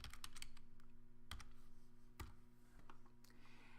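Quick, faint clicking keystrokes on a computer keyboard typing out a single word, a short burst of separate taps close up in a quiet room.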